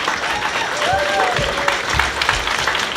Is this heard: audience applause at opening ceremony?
yes